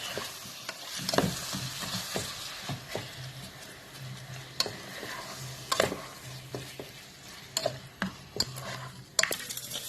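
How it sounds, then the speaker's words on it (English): Camel liver sizzles and sautés in a hot pan, a steady frying hiss broken by sharp clicks and scrapes of stirring. "the saute begins with the liver"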